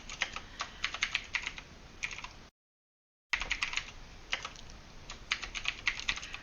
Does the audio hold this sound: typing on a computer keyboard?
yes